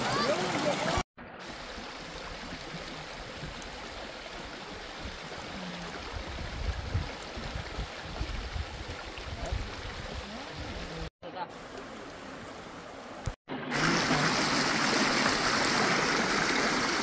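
A strong river current rushes in a steady, loud broadband wash that fills nearly the whole stretch, with a few brief dropouts and voices faintly mixed in.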